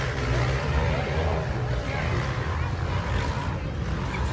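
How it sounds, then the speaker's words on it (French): Loud enduro motorcycle engine at a beach race, a steady raw drone with broad noise running throughout, mixed with crowd babble and nearby voices. "La moto qui fait beaucoup de bruit,"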